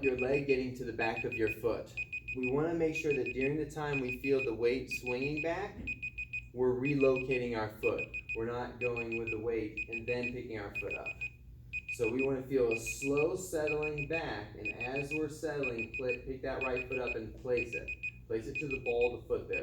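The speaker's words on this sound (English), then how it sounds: "Sorry about the beeping. We're apparently out of time." Steady electronic timer beeps repeat through continuous speech by a dance instructor teaching the cha cha, forming a fixed high-pitched tone pattern under the talking.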